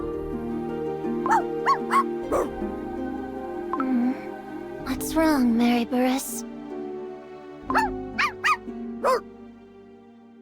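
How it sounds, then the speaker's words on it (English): A dog barks in short bursts within Cookie Run Kingdom, several yips in separate clusters over background game music, with a voice speaking briefly between them. "What's with all this barking?"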